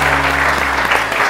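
Studio audience applauding on a Pakistani TV morning show, a dense, steady roar of many hands clapping that stays loud and even for the whole short stretch with no talk over it.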